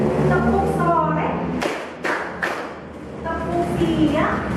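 A classroom of pupils does a rhythmic tepuk clapping routine, with bursts of sharp claps and thumps between a teacher's spoken chants, loud and close.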